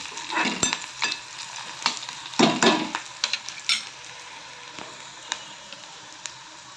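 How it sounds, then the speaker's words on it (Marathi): Tomatoes frying in a pan for a Maharashtrian tomato dish, a steady close sizzle broken by sharp scraping and stirring strokes of a spoon against the pan, with no talking. "आता छान खरपत भाजला"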